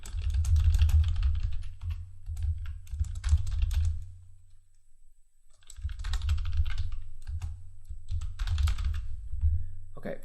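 Steady bursts of typing on a computer keyboard while entering code, close and clear, with a brief pause midway before the rapid key clatter resumes.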